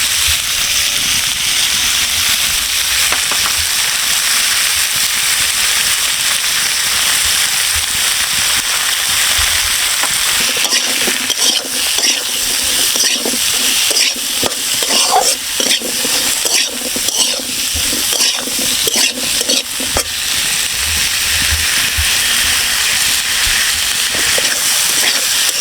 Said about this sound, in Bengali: আলুটা সুন্দর করে ভাজা ভাজা করে নিয়েছি